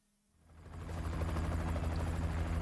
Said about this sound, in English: You hear that? Sounds like a chopper.